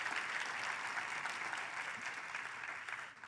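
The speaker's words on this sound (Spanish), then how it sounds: "Dele un fuerte aplauso al Señor." A church congregation breaks into sustained applause during a Spanish-language Sunday service, a dense, even wash of clapping filling the room for the whole stretch without pause.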